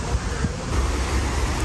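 Ocean waves wash onto a beach at sunset in a loud, continuous roar mixed with wind buffeting the microphone, with no talking.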